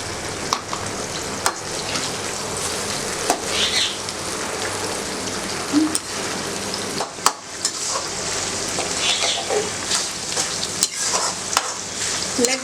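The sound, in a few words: tomatoes frying in oil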